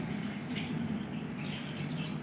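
Water poured into a mutton karahi on the stove: a soft, steady splashing flow, faint and continuous over the brief stretch, alone without voices.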